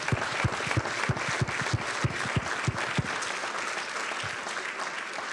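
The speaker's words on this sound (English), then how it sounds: "Let's give them all a great round of applause." An audience claps at a city's State of the City address, with close, sharp individual claps standing out early over a steady wash of crowd applause that continues evenly to the end.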